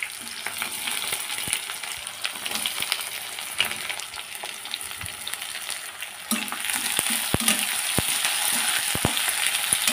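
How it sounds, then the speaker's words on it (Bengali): Onions and whole cardamom, cinnamon and cloves sizzle steadily in hot oil in a wok, with occasional sharp clinks and scrapes of stirring over a constant crackling hiss, louder in the latter part. "পেঁয়াজটা ভালো করে ভেজে নেব।"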